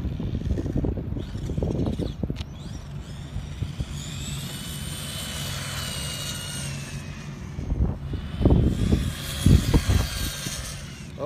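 Tamiya Grasshopper RC car with a full bearing kit and upgraded motor running on a 3S battery: a high electric motor whine rising and falling over rough gravelly rumble and bursts of tire noise, fairly close and loud.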